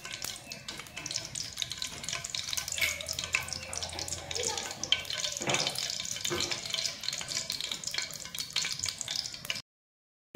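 Ghee heats in a pan with a steady, close sizzle and crackling hiss for rajma chawal, continuous and fairly loud before cutting off abruptly near the end.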